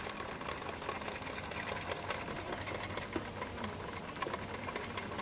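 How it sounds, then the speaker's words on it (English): Bicycle chain lightly rasps against the inner cage plate of a SRAM Red front derailleur, a faint, steady whirring friction as the drivetrain spins, with no talking. "Continue to adjust the low limit screw until you only hear a very slight rasping sound from the chain"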